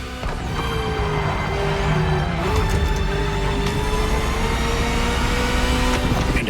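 A Ferrari sports car in the racing game The Crew Motorfest drones steadily at high revs, its engine pitch shifting slightly as it holds speed, loud and continuous with no talk.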